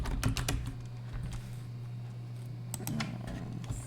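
Typing on a computer keyboard while organizing wedding vendors in a planning notebook: irregular bursts of close key clicks, denser at the start and again near the end, over a steady low hum, with no talking.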